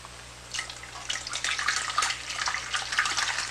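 Hot liquid pours steadily into a pan with a bright splashing, gurgling texture, starting after a brief quiet moment and continuing close by.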